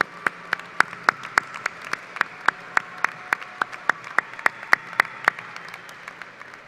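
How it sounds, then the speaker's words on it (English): Applause at a college commencement ceremony, heard as a steady, evenly spaced series of sharp single claps, about three per second, fairly close and distinct rather than a dense crowd roar. "Please join me in showing your appreciation to your parents, families, and friends with a well-deserved round of applause."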